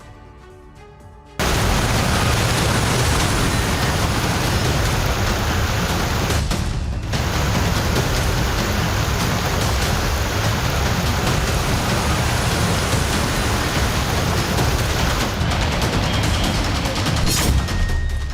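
After a brief quiet start, a loud, dense downpour of heavy monsoon rain in Maharashtra roars steadily, with a low rumble beneath it.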